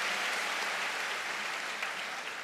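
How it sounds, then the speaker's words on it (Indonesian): Audience at a national-identity lecture for new university students applauding steadily, a dense wash of clapping at moderate level that holds evenly for the whole stretch with no voices over it. "Tepuk tangan untuk Anda yang hebat ini"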